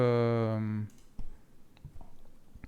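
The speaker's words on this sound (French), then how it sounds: "Je tape n'importe quoi." A command being typed on a computer keyboard: after a brief sustained voiced sound, sparse, irregular light key clicks follow close to the mic.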